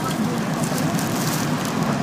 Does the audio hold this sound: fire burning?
yes